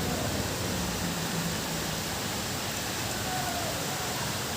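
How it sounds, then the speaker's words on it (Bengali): Steady, even hiss of rain beginning to fall in Alipurduar during the monsoon month of Shraavan, a dense broadband wash that stays constant and close with no break for the whole stretch. "এই যে বৃষ্টি চলে এসেছে।"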